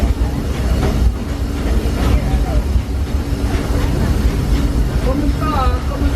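The Disneyland Railroad steam train rolls along its rails, a rumbling, clattering ride with squeals and chirps of wheels on track, close and continuous, while voices talk over it.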